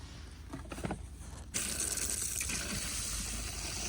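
RV and home plumbing antifreeze gushes out of a recreational vehicle's plumbing line, starting suddenly and then running as a steady, close, full stream with no talking.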